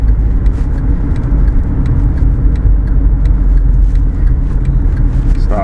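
A car turns left through an intersection, with a steady low engine and road rumble heard from inside the cabin, continuous and fairly loud throughout.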